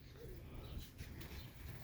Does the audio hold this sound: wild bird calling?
yes